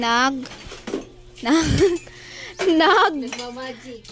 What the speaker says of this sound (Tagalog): si Jami po ay naghuhugas po ng plato